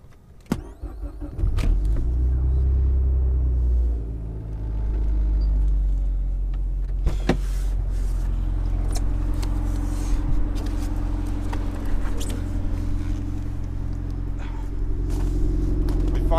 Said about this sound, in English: Being a really tiny motor, it does have a pretty throaty sound.